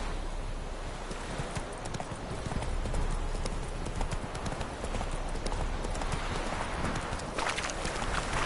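Roach, a horse in The Witcher 3, gallops in a steady clip-clop of hooves under a broad wash of wind and outdoor ambience, loud and continuous throughout.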